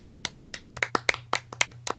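Sharp hand claps ring out one after another in an uneven rhythm, roughly a dozen crisp, close strikes over a couple of seconds with no talking.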